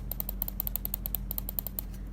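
Rapid sharp button clicks from a Zowie S2-C gaming mouse come in a quick, fairly regular series of about twenty crisp, close ticks, alone over faint background hum.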